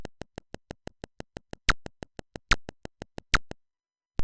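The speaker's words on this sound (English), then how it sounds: "just the internal PC speaker." An internal PC speaker in an MS-DOS game, on an 8088 to 286 era computer with no sound card, emits a rapid string of sharp, evenly spaced square-wave beeps with a few longer sweeping tones mixed in, then cuts to silence.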